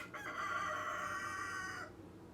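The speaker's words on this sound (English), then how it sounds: "Upstaged by a rooster." A rooster crows once, loud and close, in a long drawn-out call that ends abruptly before a quiet tail.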